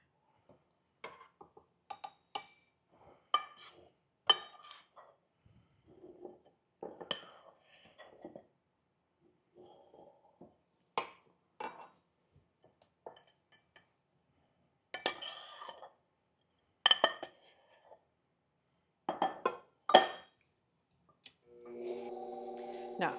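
Flour being mixed into cookie dough in a bowl, heard as sparse, quiet clinks and scrapes of a utensil against the bowl in irregular bursts, close and faint, with short pauses between strokes.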